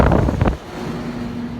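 A greenhouse fan runs with a steady low mechanical hum and a constant tonal whine, following a brief burst of gusty wind buffeting the microphone at the start.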